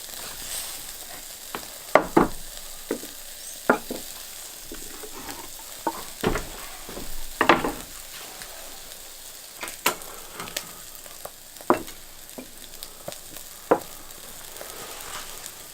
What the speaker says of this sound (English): I'm going to pop some of these peppers on to char up